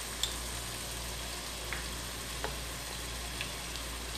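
Onions with ginger garlic paste frying in a pan for an aloo keema dish, a steady close sizzle running throughout with a few faint clicks of stirring.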